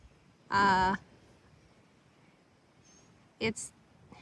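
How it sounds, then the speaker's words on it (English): A juvenile mockingbird gives a loud harmonic call once in a garden, then after a pause a shorter, sharper double chirp follows, against quiet background hiss. "It's a juvenile mockingbird, I think."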